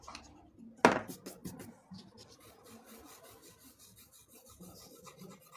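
An eraser rubs over a paper illustration, giving soft, faint scratchy strokes after one sharper knock, close and quiet with no talking.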